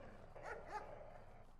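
Dogs barking in the video game Wolf Simulator, a few quiet yips and barks in the middle over a steady low game background, faint overall.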